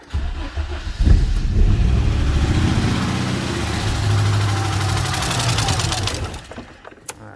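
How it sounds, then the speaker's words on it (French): An Audi coupé quattro engine with no accelerator cable runs roughly and fails to hold idle, a loud, close, uneven rumble that wavers for several seconds before dropping away near the end. "Elle tourne en vérité, mais j'arrive pas à la faire tenir le ralenti"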